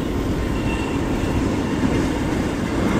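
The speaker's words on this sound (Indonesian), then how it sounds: "Sebelah Argo Dwi Pangga tuh ada kereta barang apa ya" A freight train carrying fuel rolls through Purwokerto station at night, a continuous loud rumble of wagons and wheels with faint clicking and no voices.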